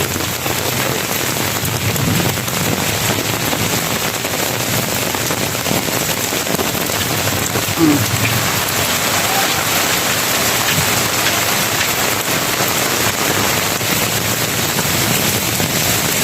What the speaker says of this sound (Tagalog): Grabe talaga, matindi po dito ang baha.